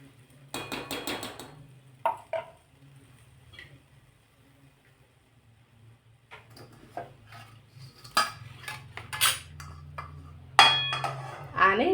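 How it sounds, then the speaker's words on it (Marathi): A metal lid goes onto a cooking pot amid scattered clanks and clinks of cookware, sharp metallic knocks near and fairly loud, separated by quiet gaps. "आता यावर झाकण ठेवते।"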